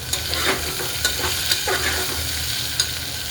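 Garam masala being stirred into spiced rice in a pan, a steady close scrape and shuffle of spoon against metal with a soft sizzle underneath, a few sharper clinks standing out.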